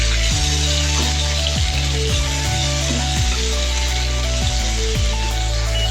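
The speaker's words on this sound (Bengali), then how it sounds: "এরপর ওই তেলেতেই ক্যাপসিকাম আর টমেটোটা হালকা করে ভেজে তুলে নেব।" Capsicum and tomato frying in oil after paneer, with a steady, loud, dense sizzle throughout. Low musical tones and repeated falling sweeps sit under the frying, and no one speaks.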